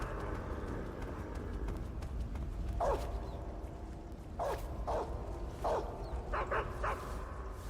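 A dog in the video game Metal Gear Solid 3: Snake Eater gives several short barks and yelps over a low, steady game background, spaced irregularly and at moderate distance.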